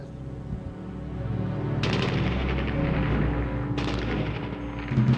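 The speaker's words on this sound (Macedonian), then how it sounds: "Рафални истрели го пробиваа просторот." Bursts of automatic gunfire during wartime in Tetovo, two sharp volleys cutting in over a steady low rumble, loud and fairly close.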